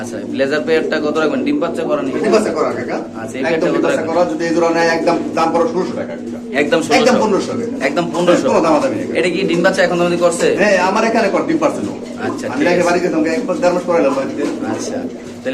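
Pigeons for sale at a market, including velvet silky birds, cooing in low repeated murmurs close by while people talk loudly over them.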